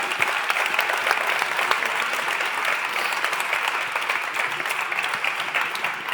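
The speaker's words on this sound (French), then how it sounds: "On peut les applaudir." An audience at an awards ceremony claps for four finalists, a sustained, even wash of many hands clapping throughout without letting up.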